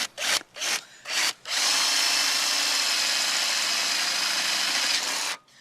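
A power drill bores a hole through the plastic tailgate light housing of a Land Rover Freelander 2, starting with a few short bursts and then running in one loud, continuous whine for several seconds before stopping.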